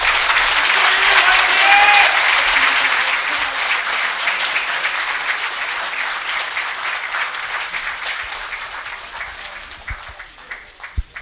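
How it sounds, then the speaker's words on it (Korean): A large crowd applauds at a presidential candidate's campaign launch rally, dense sustained clapping that starts loud and slowly thins and fades over several seconds. "박수 한번 더 주시기 바랍니다"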